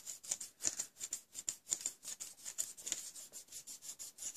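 Crepe paper being rubbed, twisted and worked between the hands to split its fibres, a close, dry rustling scrape in steady repeated strokes with no talking.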